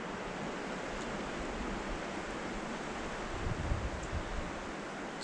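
A steady breeze rushes through a pine forest along the Lone Star Hiking Trail, a broad, even wind noise that holds for the whole stretch and swells slightly near the end, with no voices.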